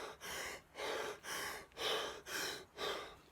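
Deep exercise breathing, likely Wim Hof style, moves in six strong, even breaths, each a forceful rush of air with short pauses between, close and steady.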